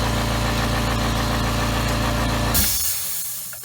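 A Husky Silent Flow 4.6 gallon air compressor runs with a steady, loud mechanical hum for about two and a half seconds, then shuts off and winds down to quiet.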